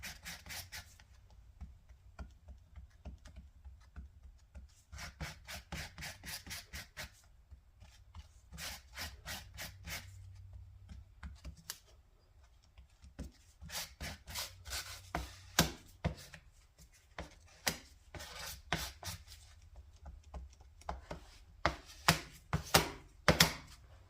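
Body filler mixed with hardener on a board for priming a car body, close and soft, with repeated scraping and smearing strokes in uneven bursts, growing sharper and louder toward the end.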